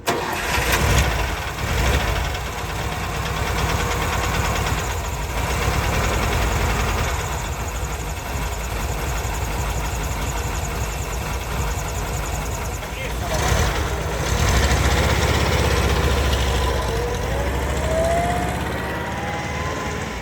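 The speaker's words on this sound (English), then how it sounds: "A V4 has a distinctive sound which is quite different from other types of engines" A ZAZ-965 car's V4 engine cranks and catches, then settles into a steady, rumbling idle that continues for a long stretch with slight swells in level.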